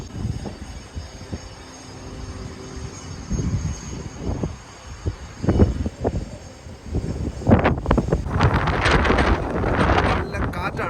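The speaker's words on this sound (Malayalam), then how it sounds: "കാറ്റ്." Strong wind at the port of Punta Arenas, Chile, buffeting the microphone in loud rumbling gusts that grow rougher and denser in the second half, with a voice speaking briefly early on.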